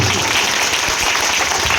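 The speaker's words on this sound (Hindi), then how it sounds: "अगर बात अच्छी लगी हो तो तालियां चाहिए।" Steady, dense applause from an audience at a village gathering in Azamgarh, filling the whole short stretch at a loud, even level with no gaps.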